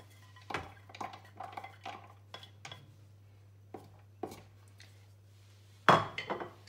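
Clatter of a bowl with a mixing paddle being fitted into a Cecofry air fryer for rice, a few sharp plastic and metal knocks with one loud clunk near the end amid softer handling sounds over a steady low hum.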